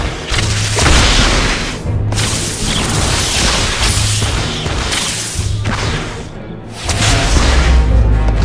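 Spell blasts from a Harry Potter and the Half-Blood Prince video game, several loud booming whooshes in quick succession, each a burst of noisy crackle, with no talking.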